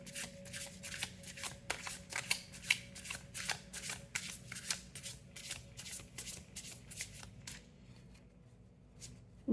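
A deck of oracle cards being shuffled by hand, a steady run of crisp riffling snaps and soft slides close up, continuing for several seconds before stopping abruptly near the end.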